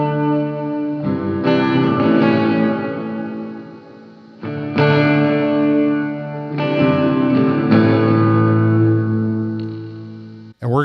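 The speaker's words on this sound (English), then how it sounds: "I have the Eno reverb" Electric guitar chords ring out through an Eno reverb pedal on its hall setting with long decay, spacious and washy, separated by brief pauses between phrases.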